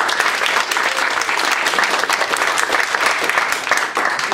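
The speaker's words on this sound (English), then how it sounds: "let's get a round of applause for the first team" A crowd at an improv comedy show claps for the first team, loud, close and sustained applause that stays even throughout with no one speaking.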